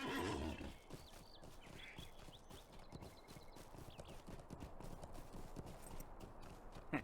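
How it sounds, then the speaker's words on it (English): Steady clip-clop of hooves trotting along in The Lord of the Rings Online, with a horse whinnying near the start, over faint background ambience; no talking. "We're going to get on our horse first."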